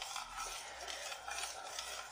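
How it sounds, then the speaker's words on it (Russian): A spoon stirs a milk and banana drink in a saucepan, giving a soft, continuous scraping swirl. The sound stays steady and fairly quiet for about two seconds, with no voices. "И сейчас размешиваю все в кастрюльке."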